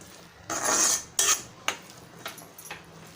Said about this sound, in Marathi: छान असं मिक्स करून घेऊया।